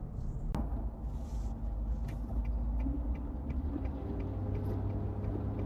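A Nissan Navara Pro2X pickup driving along a road, giving a steady low engine and tyre rumble from inside the cab, with a sharp brief click near the start and no one talking.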